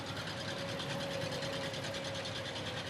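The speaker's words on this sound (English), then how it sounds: "A McCormick farm-all gray tractor." Gray McCormick Farmall tractor engine in a county fair parade, a continuous moderate mechanical whir with a faint steady whine running through it, heard alone without talk.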